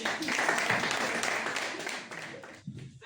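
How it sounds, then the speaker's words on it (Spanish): Applause for award recipients at a tourism diploma ceremony, fairly quiet steady clapping that fades toward the end as a voice comes in. "Un aplauso para ellos."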